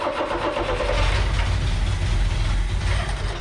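An old mini U-Haul box truck that sat for 35 years cranks over, a loud, steady starter churn with rapid rhythmic pulsing that never catches, heard up close.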